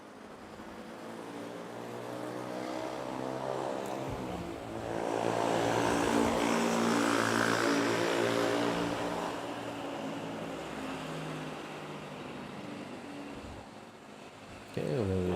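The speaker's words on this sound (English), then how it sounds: "there's Philippine Airlines from KL, Kuala Lumpur, arriving, touching down. Ah, jet." A Philippine Airlines jet arriving from Kuala Lumpur touches down at Manila Airport, its engine roar swelling from a distance into a broad, loud rumble before slowly fading back.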